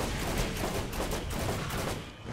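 Dense, continuous gunfire from the Borderlands video game, a steady crackling barrage of rapid shots that stays loud and busy throughout.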